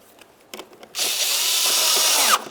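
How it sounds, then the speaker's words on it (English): A power drill drives a bolt into the front bumper of a 2006–2010 Ford Explorer, opening with a few faint clicks and then a loud, steady whirring run of about a second and a half that stops abruptly. "we can get this bolt in here now"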